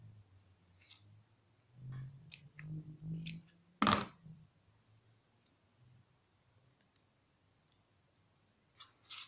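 Scissors trim excess paper from a journal swing tag in a quiet room, giving a few soft close snips and a rustle, then a single sharp click, followed by near silence.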